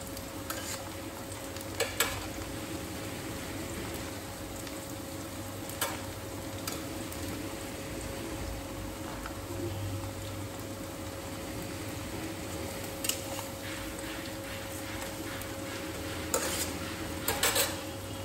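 Cut potatoes fry in a pan for a bitter gourd and eggplant dish, giving a faint, steady sizzle under occasional light scrapes and clinks of a stirring utensil, with no talk.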